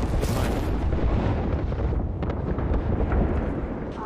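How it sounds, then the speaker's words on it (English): Airstrike explosions in Apex Legends roll on as a loud, continuous booming rumble, with dense overlapping blasts and no pause across the whole stretch. "Is this a friendly airstrike?"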